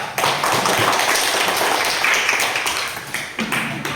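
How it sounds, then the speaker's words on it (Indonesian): A classroom full of people applauds loudly and continuously for a student group, a dense wash of clapping that holds steady for several seconds. "Tepuk tangan untuk kelompok 4"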